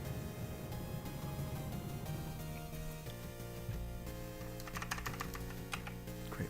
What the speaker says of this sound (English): Keyboard action.